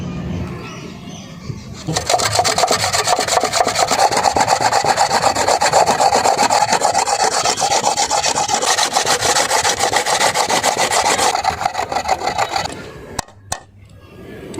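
Potato is grated by hand for sabudana vegetable pakora, a steady, close rasping scrape that runs continuously for about ten seconds before stopping, with a couple of small knocks at the end.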